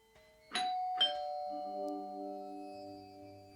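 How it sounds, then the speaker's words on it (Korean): A doorbell at a three-story Western-style house gives a clear two-note ding-dong, the tones ringing out and slowly decaying in a quiet room. "나는 두근거리며 초인종을 눌렀다"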